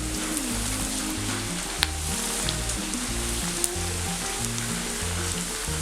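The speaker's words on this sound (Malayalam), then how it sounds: "അപ്പോൾ ഇത് നമുക്കിനി എണ്ണയിലേക്ക് ഇട്ട് പൊരിക്കാം." Beef cutlets sizzle steadily in hot oil for a Kerala beef cutlet recipe, with a continuous crackling hiss, occasional sharp pops, and low background music underneath.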